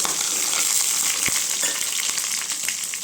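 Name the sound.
onions sautéing with mustard, fennel and curry leaves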